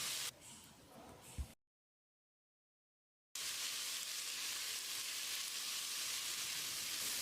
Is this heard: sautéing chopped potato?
yes